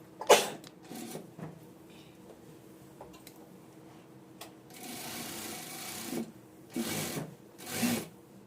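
A sewing machine stitches a border onto a princess-cut blouse in short bursts of rapid whirring, separated by quiet pauses and light fabric handling, close and moderate in level.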